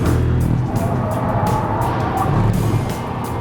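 Audi A3 on the BIC race track with the throttle held wide open through a corner, a steady loud engine drone with road and wind roar running continuously throughout.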